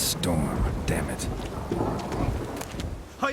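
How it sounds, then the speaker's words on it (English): Game thunderstorm from The Witcher 3, with rumbling thunder and steady rain under wind, and a person talking over it throughout. "A storm, damn it."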